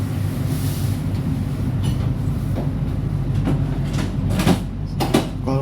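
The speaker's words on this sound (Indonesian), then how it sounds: "kereta api Taksaka menyusul kereta api Ciremai" The Taksaka express overtakes the Ciremai train on an Indonesian line, a loud steady rumble of rolling stock with repeated rhythmic wheel clacks growing sharper toward the end, heard close from on board.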